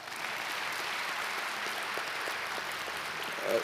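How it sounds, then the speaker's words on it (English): A church congregation at a Celebration Sunday service claps steadily in a broad, even wash of applause, moderately loud and continuous throughout. "go ahead and clap right now"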